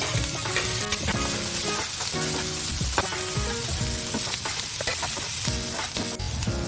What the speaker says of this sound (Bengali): এবার আমি এর মধ্যে দিয়ে দিচ্ছি কাঁচা লঙ্কা কুচি আর দিয়ে দিচ্ছি টমেটো কুচি।